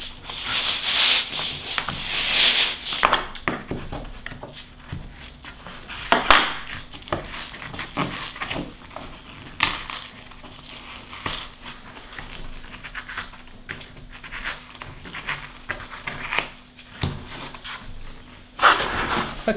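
Old foam being peeled and scraped off a vinyl roof panel during a winter refit, a close, continuous rubbing and tearing with scratchy bursts and a few sharper rasps, no talking.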